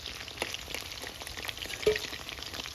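Chicken lollipops frying in hot oil on a home stove, a steady close crackle and sizzle with scattered pops and one sharper spatter.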